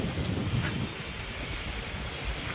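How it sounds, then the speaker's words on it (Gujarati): Rain falling outdoors, a continuous fine hiss mixed with low wind rumble and buffeting on the microphone, moderately loud and steady. "વરસાદ શરૂ છે"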